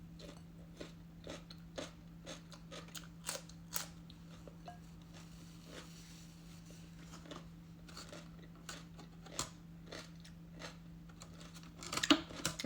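Chewing and biting food while eating in a mukbang, close and quiet. Crisp little crunches and bites come at an irregular pace over a steady low hum, with a louder clatter near the end.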